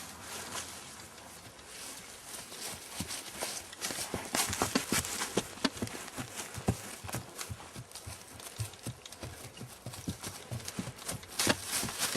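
Horse hooves clip-clopping as the horse is moved along, an irregular series of sharp, close hoof strikes that build in density and loudness, with faint background sounds.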